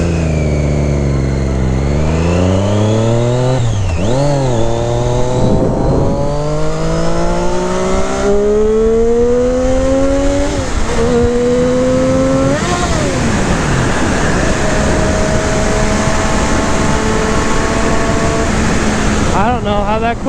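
A Triumph Daytona 675 R sport motorcycle revs hard and climbs through gears with a quick shifter, its engine pitch rising and dropping at each shift, loud and close throughout, with a rider speaking over it.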